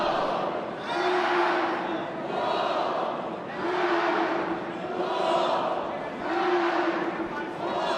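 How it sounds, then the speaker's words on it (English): A big college wrestling crowd in Raleigh roars in rhythmic waves of chanting and cheering, swelling and fading roughly every couple of seconds, loud and close. "Great college wrestling crowd here in Raleigh."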